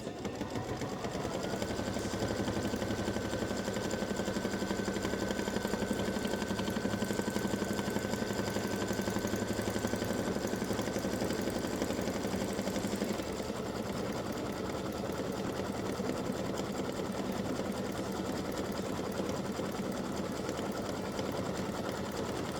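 An embroidery machine sews a dense satin stitch on an in-the-hoop Halloween pumpkin banner, a continuous loud, even mechanical hum with fast rhythmic needle chatter.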